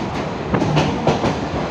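A train in motion in Sri Lanka on the Kandy route: a brief close rumble with a few sharp rhythmic clacks as the wheels cross rail joints, and no voices.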